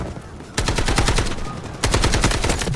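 AKM rifle fire in the Delta Force video game: two long, loud, close bursts of rapid automatic shots, the second starting after a brief gap.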